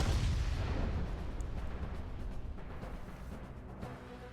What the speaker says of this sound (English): the burning fuse inside the body reaches the explosives